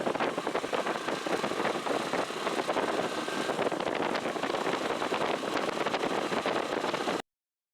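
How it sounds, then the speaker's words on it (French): Yamaha YBR 125 motorcycle with an added fuel-injection mapping module, ridden on winding country roads, its engine buzzing continuously under heavy wind rush at the microphone, no talk. "à quel point c'était agréable de rouler avec cette moto dans des petites routes de campagne comme ici"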